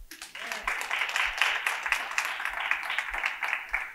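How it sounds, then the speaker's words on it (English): A lecture audience breaks into a second round of group clapping for the workshop attendees, a thick, continuous wash of hands that sustains evenly throughout. "And then a second clap for everyone who came to the workshop"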